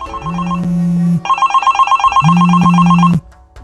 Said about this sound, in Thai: โทรศัพท์ปริศนาที่โทรเข้ามาอันนี้สำคัญมากครับ